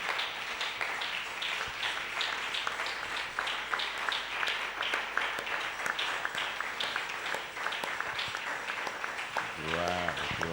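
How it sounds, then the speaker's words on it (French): Church congregation applauds during a worship service, a sustained steady patter of many hands clapping at moderate distance, with a voice speaking briefly near the end. "Maintenant, tu peux applaudir le Seigneur"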